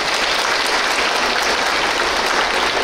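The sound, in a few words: audience applause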